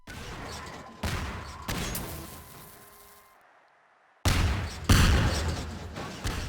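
Explosive barrels blow apart a house among Metro Cop NPCs in Garry's Mod on Xbox: a loud blast with rumbling debris fades away, then a fresh pair of sharp explosions bursts out near and heavy.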